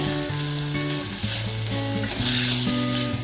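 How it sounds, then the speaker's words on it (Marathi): Chopped tomato sautéing with softened onion in a pan for soya kheema, a steady close sizzle, with strong tonal hum lines running through it. "एक चिरून घेतलेला टोमॅटो घालून घेते थोडासा आपण परतून घेऊया"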